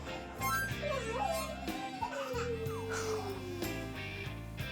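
A dog howls in long, wavering, rising and falling tones over a blues tune, so it sounds like singing. Music continues underneath throughout.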